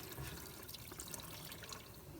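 Sugar syrup poured into a beehive feeder, a very quiet, steady stream of liquid splashing close by, with no talking.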